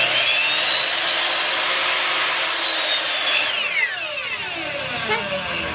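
A power saw whines loudly and steadily as it cuts through a wooden board for a large wood sign, the motor pitch sliding down near the end of the cut; a voice speaks under the noise.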